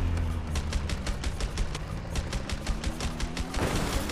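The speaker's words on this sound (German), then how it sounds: "Oh, ich muss schießen." Rapid bursts of automatic gunfire from the video game A Way Out, a dense run of evenly spaced loud shots lasting several seconds with a heavier boom near the end.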